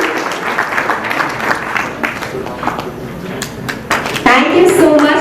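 An audience at a plastics industry exhibition launch in Rajkot breaks into applause, scattered claps building to a fuller burst near the end, with a host's voice talking over it throughout.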